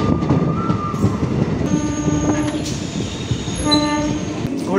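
Local train running from Ranaghat via Shantipur toward Krishnanagar, heard at a station as a close rumbling roar of wagons with horn blasts and tonal squeals, loud and sustained throughout.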